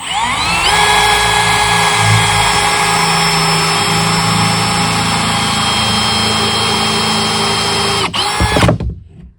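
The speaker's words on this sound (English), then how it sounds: "So I'm just gonna countersink a couple screws." A power drill runs loud and steady for about eight seconds, driving a small countersink bit to countersink screws into a wooden children's activity table, then winds down and stops.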